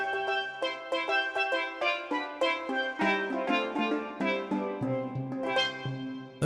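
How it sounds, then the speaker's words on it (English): Steel drum voice on a Yamaha Genos 2 keyboard, played as a quick melodic run of bright, ringing struck notes with short decays, clear and close with no talking. "but we got a new steel drum."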